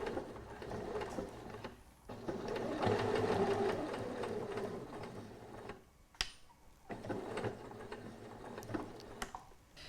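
Sewing machine stitching down the folded trim edge of a summer tote bag, running in a long steady burst, pausing briefly, then resuming with shorter runs close up.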